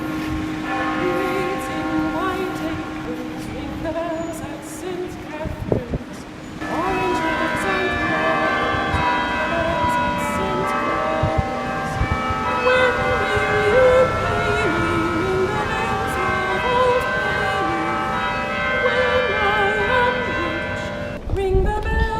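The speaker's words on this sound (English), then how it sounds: "To be a Cockney, you had to be born where you were able to hear the bells of Bow Church ring" The bells of Bow Church in London ring out in sustained, overlapping peals, with a steady resonant wash of tones that briefly drops away before swelling back.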